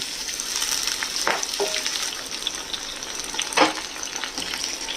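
Sliced ridge gourd fries in hot oil with nigella seeds and dried chillies, a steady close sizzle broken by a few scraping stirs of the pan.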